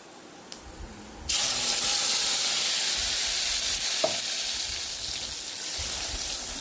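Ground masala paste added to onions frying in oil for a spinach thokku, a quiet start then a sudden loud steady sizzle with a brief clink of stirring, no talk.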